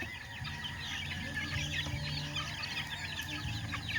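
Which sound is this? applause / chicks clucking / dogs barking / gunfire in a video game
chicks clucking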